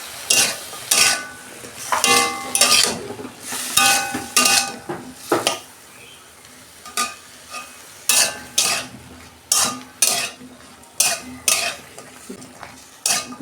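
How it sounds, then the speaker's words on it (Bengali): Vegetables with salt and turmeric frying in a pan, with repeated loud scraping stirs in a steady rhythm over a soft continuous sizzle, close up and with no talking. "দু মিনিট সবজিগুলো আমি একটু ভেজে নেব"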